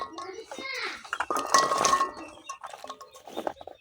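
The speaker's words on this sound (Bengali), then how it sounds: "তো এই কড়াইয়ের মধ্যে দিয়ে দিতেছি আগে কাইটে রাখা সিমগুলা" Chopped beans tipped into a metal kadai while cooking a winter vegetable and fish dish in a village kitchen, with a few clinks and clatters of metal under a person talking.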